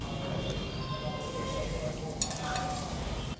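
Refined oil going into a kadhai on the stove, a steady sizzling and hissing wash with faint metallic clinks near the end, close and moderately loud throughout.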